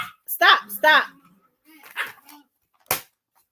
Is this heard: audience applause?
no